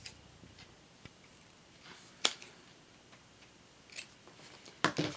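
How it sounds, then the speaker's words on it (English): Scissors snipping the loose ends of a knotted T-shirt yarn bracelet, a few quiet, crisp clicks spaced irregularly over soft background hiss, close by with no talking. "Snip those ends up."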